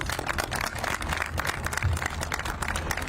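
Audience applause at the launch of the I-95 reconfiguration project in East Lyme, Connecticut, a steady wash of many hands clapping at moderate volume, heard without talk throughout.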